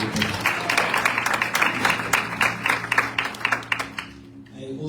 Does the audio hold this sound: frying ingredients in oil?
no